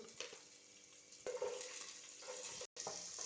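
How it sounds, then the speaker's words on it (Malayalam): Curry leaves and sunflower oil sizzle and crackle steadily in a hot pan on the stove during chicken curry preparation, with a brief stir or clatter partway through, close and moderately loud, no talking. "നമുക്ക് ആവശ്യത്തിന് സൺഫ്ലവർ ഒഴിച്ചു കൊടുക്കാം വേപ്പില ചേർത്തു"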